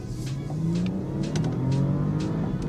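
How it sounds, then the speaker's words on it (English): A Porsche Panamera Sport Turismo hybrid accelerates hard from rest toward 60 mph, its engine note rising steadily beneath road and wind rush, heard from inside the cabin. "I'm going to try a little 0 to 60 sprint."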